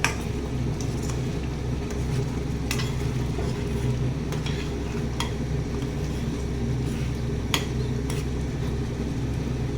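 Chicken for a Bengali chicken rezala being stirred and fried in a pan, a steady close sizzle with occasional scraping clicks of the spoon throughout, no voices.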